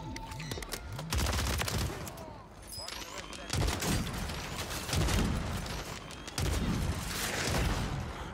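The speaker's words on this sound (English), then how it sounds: "Who shot a fat ass rocket at me, bro?" Gunfire and a rocket explosion in a Warzone-style sniper match with the MORS sniper rifle: dense bursts of shots and heavy booms, loud and continuous throughout, with a voice talking over them.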